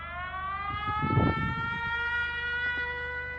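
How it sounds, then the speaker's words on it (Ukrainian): An air raid siren wails steadily in the distance with a sustained tone, while a nearby muffled rumble and brief thumps sit underneath it. "Під звуки тривоги."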